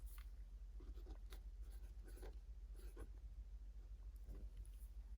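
A pen scratches faintly across paper while numbers are written into a budget planner, short quiet strokes in irregular bursts over a low steady hum, with no talking.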